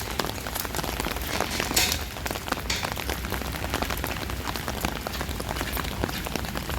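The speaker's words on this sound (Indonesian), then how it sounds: "naik motor hujan-hujanan" Heavy rain pours down during a motorbike ride, a dense, steady hiss of close spattering drops that holds for the whole stretch with no one talking.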